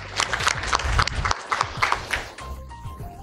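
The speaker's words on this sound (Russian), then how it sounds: "Давайте им похлопаем, коллеги." Audience at a PROFIT Retail Day 2015 retail-automation conference applauds, a steady burst of clapping that fades out after about two and a half seconds, leaving quieter room sound.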